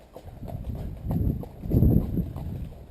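A horse moves in a field with soft uneven hoof thuds and shuffling, close and fairly loud, rising and falling over a few seconds with no talk.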